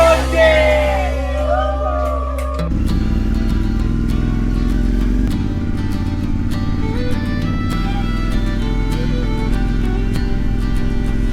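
A motorcycle engine drones steadily with exhaust roar on a ride along a scenic road to Jatiluwih, mixed with music and some voices over a continuous low rumble.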